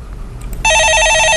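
Telephone ringing on a call-in stock market show: a steady, loud electronic ring with repeated bell-like pulses that starts suddenly after a short moment of quiet room noise.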